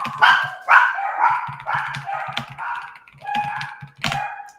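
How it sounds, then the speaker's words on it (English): Dogs bark repeatedly in loud, close bursts with yips mixed in, an uneven excited volley that carries on for several seconds without any talking. "the dogs are going crazy"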